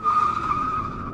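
In Euro Truck Simulator 2, a truck brakes and skids on snow, with winter physics in play, giving a loud continuous tire squeal over rumbling road noise for about a second, heard alone without talk.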